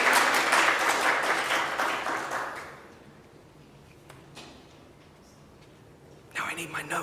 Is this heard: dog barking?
no